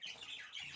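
Pet zebra finches give a brief burst of harsh, nasal squawks, close and fairly faint, with no talking.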